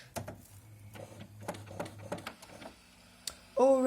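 HP DeskJet 5200 printer mechanism cycling during setup, a run of quiet clicks, whirs and ticks from the carriage and feed motors, ending in a sudden louder mechanical buzz.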